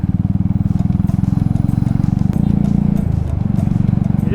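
A Hero Honda Splendor motorcycle rides in traffic with a loud, close, steady low engine putter that shifts slightly midway, alongside other road noise.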